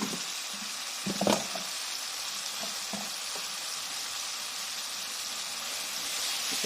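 Sambal tempoyak sizzles steadily as it fries in a pan, with a brief burst of scraping from stirring near the start, then a continuous hiss with no talk.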